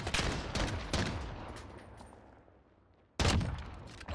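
Desert Eagle pistol shots in the Modern Warfare video game: a few sharp, loud reports in quick succession, a lull with a fading tail, then another sudden blast near the end.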